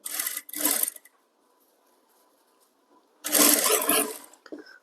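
A sewing machine stitching piping onto a blouse runs in short bursts: two quick rattling runs at the start, a quiet pause with a faint hum, then a longer, louder run of stitching followed by a brief final burst.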